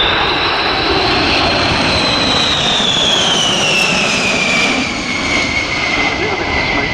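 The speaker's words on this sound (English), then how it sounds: "My goodness, here's the B-52 coming through." A B-52 bomber roars past at an air show, a loud, sustained jet rumble whose pitch slides lower as it passes, with a voice faintly audible beneath.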